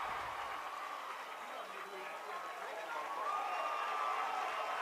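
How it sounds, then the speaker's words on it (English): Sizable crowd at a Lehi high school baseball championship game gives a steady, distant ovation after a leadoff double, a broad wash of cheering and clapping held at an even level throughout. "a big ovation from this sizable Lehi crowd"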